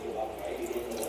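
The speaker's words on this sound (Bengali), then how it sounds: "জল দিয়ে দিলাম" Water poured into a cooking pot holding rice, a steady close splashing flow over a short moment, with faint talk underneath.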